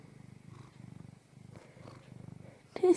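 A cat purrs steadily up close, a rhythmic low rumble pulsing in and out, ending with a brief louder sound.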